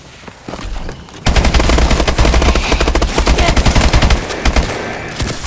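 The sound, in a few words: gunfire in the video game Call of Duty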